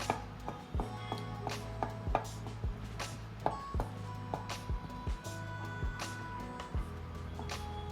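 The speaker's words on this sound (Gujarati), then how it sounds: "તો આપણે આવી રીતે ચમચીની મદદથી હોલ કરી દઈશું" A spoon repeatedly pokes holes into rolled-out puri dough on a rolling board, giving a series of short, sharp taps in an irregular rhythm, close and distinct, over a faint steady background hum.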